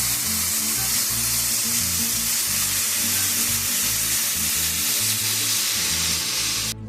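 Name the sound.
broth added to sizzling minced garlic in pan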